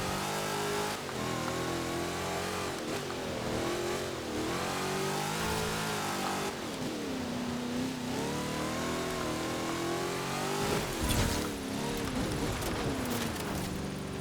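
Chevrolet Camaro iROC-Z engine in Forza Horizon 4, loud and continuous, revving up and down through gear changes during a lap, with rising and falling pitch sweeps and no talk.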